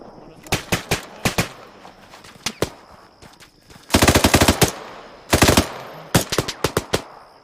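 Guns firing in the military video game Arma 3, loud bursts of rapid machine-gun fire in several clusters with short pauses between volleys.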